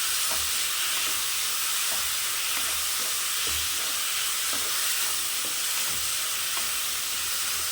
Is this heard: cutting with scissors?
no